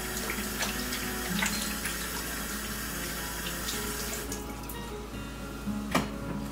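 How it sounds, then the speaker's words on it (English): Tap water runs steadily into a sink while hands are washed underneath, giving a close, continuous splashing with a few brief louder splashes. "Now, you're just gonna wash your hands off with water."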